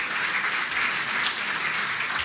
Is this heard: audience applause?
yes